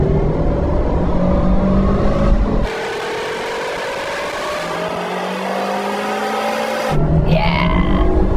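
A Ford F-150 VelociRaptor 6x6 pickup accelerating hard in second gear in sport mode during a drag race against a Hennessey Venom 775, its loud engine roaring and revving close by with a sharp shift partway through.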